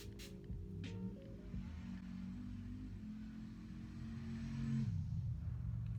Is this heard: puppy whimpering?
no